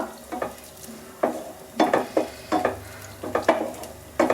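Kerala-style onion curry with spices gets stirred in a pan over a low flame, a spoon scraping and tapping in uneven close strokes over a soft, steady sizzle.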